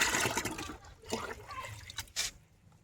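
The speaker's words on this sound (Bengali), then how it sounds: "এবার এই তরল সারটা একটু হালকা করে তৈরি করে সমস্ত গাছে দিয়ে দেবো" Liquid oil-cake fertilizer poured from a bucket onto vegetable plants in a rooftop garden: a close, splashing gush of water that trickles and dribbles in uneven bursts, with no talking.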